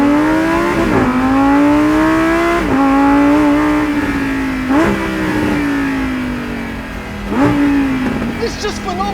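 A 2021 Lamborghini Huracan STO engine revs loudly and close, with repeated rising and falling pulls in a musical wail, while a voice talks faintly underneath.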